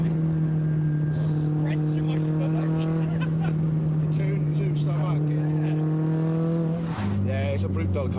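Hard-driven car pulling away at full throttle, a steady loud engine drone holding one pitch for several seconds before dropping to a lower tone, with faint voices underneath.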